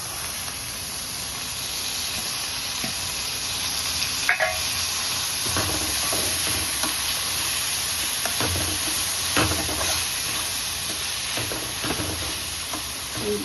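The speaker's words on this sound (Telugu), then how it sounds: "మెంతెం కూర వేగినాక అలా వేసుకోవాలి" Fenugreek leaves fry in a pan with a steady loud sizzle and hiss, broken by occasional scraping stirs and clinks.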